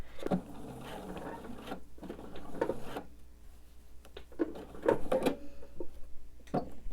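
A home sewing machine stitches a quilt border seam, its motor whirring in short runs broken by pauses and small mechanical clicks, fairly close and moderately quiet.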